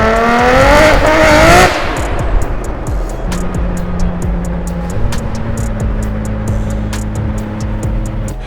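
A Nissan Skyline R34 GT-R with a full titanium exhaust and roughly 900 horsepower roars loudly as it accelerates past on the street, then settles into a droning, steady engine note with sharp ticking noises over it.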